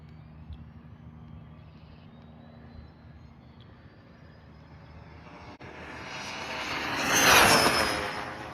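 A Rlaarlo DSK RC car on a Turnigy Panther LiPo pack speeds up at full throttle, its thin motor whine swelling from a distant hum to a loud, close pass before fading slightly.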